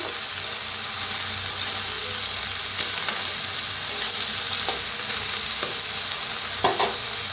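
Mixed village-style Bhogi vegetables frying in a pan over a wood-fired chulha, a bright constant hiss of sizzling with periodic stirring clicks and scrapes, close and steady, no talking.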